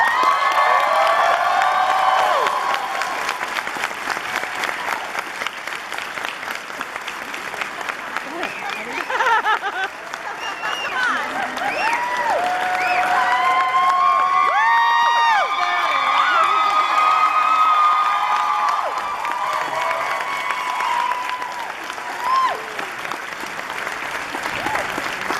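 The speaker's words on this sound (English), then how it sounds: "I was clapping like a mad fan." A large audience at a Dragon Con convention panel bursts into sustained applause with cheering and whoops, a dense crowd roar that carries on loudly for about twenty-five seconds.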